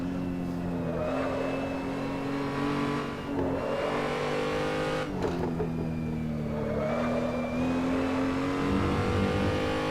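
A car with a paddle-shifted 8-speed automatic gearbox in Assetto Corsa, its engine whining up through the revs, dropping at each shift into the next gear, then climbing again, steady and close.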